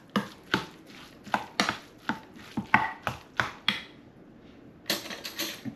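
Yellowfin tuna tartare with sesame seeds being stirred in a bowl, a series of sharp, close utensil knocks and scrapes in an uneven rhythm, with a short pause before a final cluster of quicker taps.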